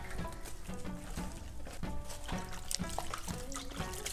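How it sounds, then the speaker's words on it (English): Salt-water brine is poured over cabbage for kimchi, a continuous soft trickle and splash heard close up throughout, with no talk. "so we're technically adding salt water to it so that it can easily get brined"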